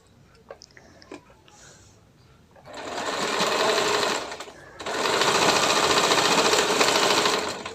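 An electric sewing machine stitches a blouse along a chalk line in two long, fast whirring runs with a brief pause between them. A few light clicks and taps of fabric handling come before the stitching starts.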